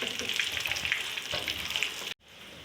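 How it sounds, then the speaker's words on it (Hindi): Beef kebabs frying in a pan, a loud steady close sizzle with faint stirring, cutting off abruptly near the end into quieter room tone. "कबाब फ्राई हो गए।"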